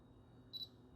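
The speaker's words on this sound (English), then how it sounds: "you heard a little beep once it acquired focus and it turned green" Canon T5i DSLR camera gives a single short, high focus-confirmation beep, faint and isolated over quiet room tone.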